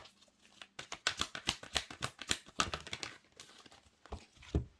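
Tarot cards shuffled by hand during a reading, a quiet close run of quick papery riffles and taps in uneven bursts, with a short pause before the shuffling starts.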